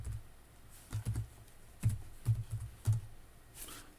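Someone types a password on a computer keyboard: several quick, soft key clicks in short irregular bursts against a quiet room.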